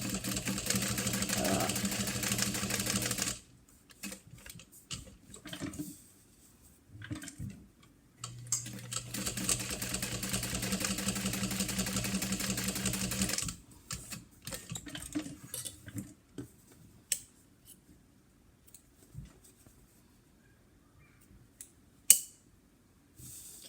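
A home sewing machine top stitching a small fabric cash card mini wallet with a short stitch length, running in steady whirring bursts of several seconds, then stopping and starting in shorter spurts with quiet gaps and small clicks between.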